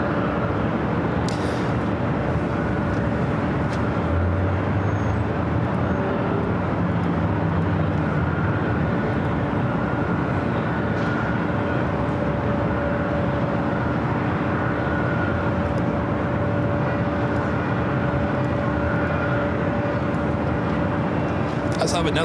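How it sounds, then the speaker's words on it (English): A Southwest Airlines Boeing 737-700 arriving at LAX from El Paso, a steady, loud, broad jet roar with a sustained engine tone that holds level across the whole stretch, with a voice talking faintly underneath. "Next arrival here on the north side is Southwest Airlines flight 342, coming from El Paso, Texas, 737-700"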